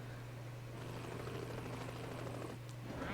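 Police helicopter in The Incredibles video game cutscene, a steady low rotor drone holding evenly throughout at moderate level.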